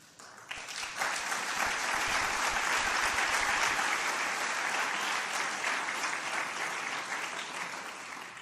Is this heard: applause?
yes